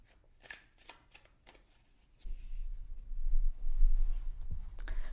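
Tarot and oracle cards being shuffled for a reading: crisp riffling and flicking of card stock, a few quick bursts at first, then a steadier, louder run of close shuffling with no talk.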